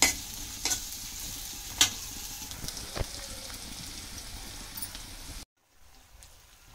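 Spices sizzling in hot oil in a home kitchen while being stirred, a steady close crackle with occasional louder scrapes and clinks, cutting out abruptly near the end.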